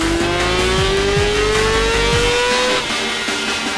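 Honda Fireblade racing motorcycle engine revving hard, loud and close, its rising whine sweeping steadily upward for nearly three seconds before dropping back to a lower, rougher idle.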